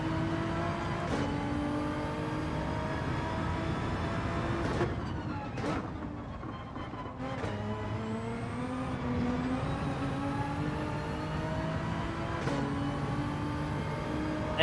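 Nissan GT-R engine in Gran Turismo 7 racing, a loud continuous roar with rising and falling revs through gear shifts, including a brief drop around mid-clip before it climbs again, with no talk.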